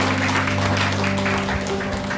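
A church congregation claps briefly during a sermon, a short burst of crowded applause over a steady low sustained tone, fairly loud and close throughout.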